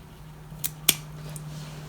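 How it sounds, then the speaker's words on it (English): Echeveria stem snipped for propagation, two short crisp scissor cuts close by over a faint steady hum, with no talking. "maybe I'm gonna cut that one as well"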